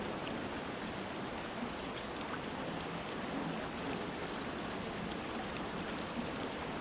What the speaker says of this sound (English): rain on its own is just a vibe